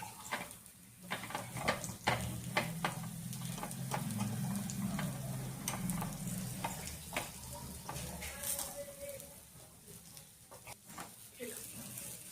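Mung bean sprout khopa fries in a pan, faint sizzling with scattered ticks and small pops as pieces are flipped, while someone talks over it.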